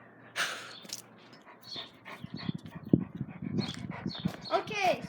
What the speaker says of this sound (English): So this is our dog.